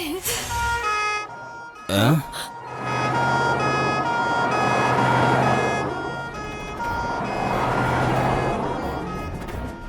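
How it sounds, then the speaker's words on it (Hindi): An ambulance siren wails steadily, loud and close, with its rising and falling tone over a rumbling engine and some voices in the background. "लगता है भाई कोई टपक गेला है, एम्बुलेंस आई है।"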